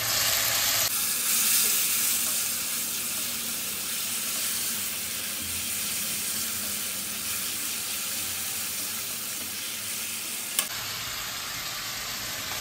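Bay leaves, a dried red chili and tomato paste sizzling in hot oil for a Bengali prawn curry, a loud, even, continuous hiss that fills the whole stretch close up, ending in a small click.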